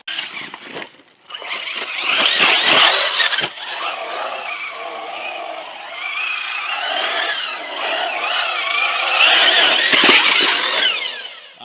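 An off-road RC car drives across rough ground, its small motor whining steadily and rising and falling in pitch, with crunching and scraping from the terrain, fairly close and continuous.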